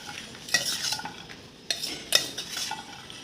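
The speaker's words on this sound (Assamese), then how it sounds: "এইখিনি মই ধুনীয়াকৈ মিক্স কৰি ল'ম এতিয়া" Spoon stirring ground cumin, amchur and red chili powder in a bowl: scattered light scraping and clinking strokes, a few sharper taps standing out, fairly close and alone without talk.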